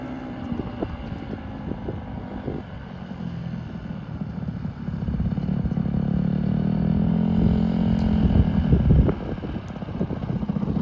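A Honda CRF150R dirt bike ridden by a first-time rider, its engine droning steadily and swelling louder toward the end before easing off, with wind buffeting the microphone and no talk.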